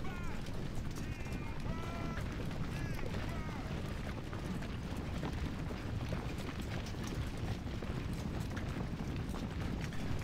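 Cavalry horses gallop in Ultimate General: Civil War, their hoofbeats forming a dense, continuous rumble that runs steadily throughout, with someone talking over it early on.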